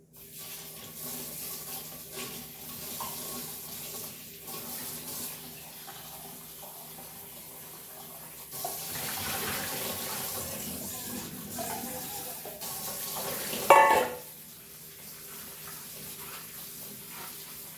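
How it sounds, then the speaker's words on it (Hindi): Leaves being rinsed in a strainer under a running kitchen tap, a steady close wash of water with a louder splashing burst midway and no talking. "तो ये पहले मैं पत्ते धो के छन्नी में छान लूँगी"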